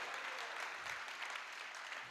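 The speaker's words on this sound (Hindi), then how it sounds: "7-8 लोगों ने ताली बजाई है" Audience at an outdoor school hall poetry recital (kavi sammelan) gives a sparse, light round of clapping from a small group, steady and moderately distant throughout.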